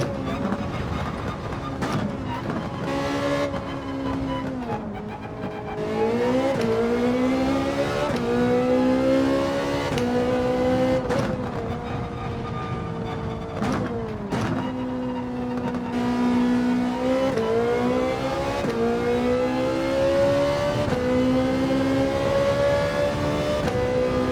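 Race car engine in Gran Turismo 7 roaring steadily near and loud, pitch climbing through the gears with brief lifts off the throttle into a corner before revving up again.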